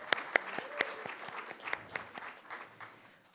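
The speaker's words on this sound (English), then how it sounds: "Let's give a round of applause." Honorees at a labor education awards ceremony receive applause, scattered and fairly faint, with a few sharp individual claps standing out from a thin, spread-out crowd.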